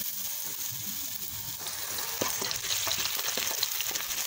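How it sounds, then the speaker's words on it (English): Onion sweating in oil in a pan for vegetable pasta, a continuous soft sizzle with occasional pops and light stirring that grows slightly busier toward the end, close by and without speech. "Then I'm gonna put my onion and let them sweat out."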